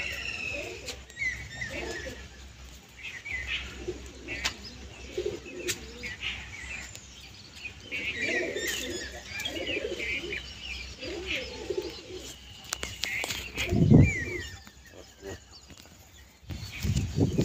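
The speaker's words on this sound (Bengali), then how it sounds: "এই 5টা পায়রা ছাড়লাম।" Pigeons released at a pigeon racing tournament, with cooing and chirps among outdoor noise, a brief burst of wing flapping near the end, and people talking throughout.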